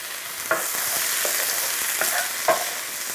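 Sautéed spinach scraped and spooned from a hot pan into a bowl, a few sharp utensil scrapes over a steady soft sizzle, close and alone.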